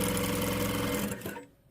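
A sewing machine runs steadily, stitching elastic around the sleeve of a churros-style ribbed-cuff jumper, its mechanical whir continuous and close before slowing and stopping near the end.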